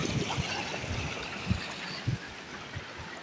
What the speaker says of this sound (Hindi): ये पानी आ रहा है, पर ये इधर से भी नहीं आ रहा, फिर भी ऊपर से आ रहा